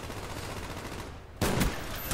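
Sniper fire in Call of Duty Black Ops, one sharp, loud shot bursting out after a stretch of steady game noise, then ringing on.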